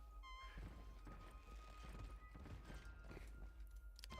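Horse units in the strategy game Civilization VI gallop with a steady clip-clop of hooves, broken by a shrill whinny near the start, loud and continuous throughout the short stretch.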